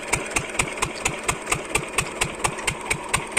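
An old engine-driven water pumping machine runs alone, its fast, even thumping beat steady and close with a rough mechanical chatter over it.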